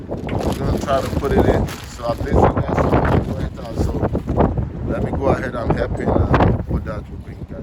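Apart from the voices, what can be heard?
wind noise on microphone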